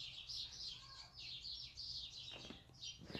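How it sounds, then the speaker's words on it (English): Birds chirping in a Ben 10 video game, a run of high, bright tweets repeating over a quiet background, with a few soft thumps near the end. "Some birds are flying by."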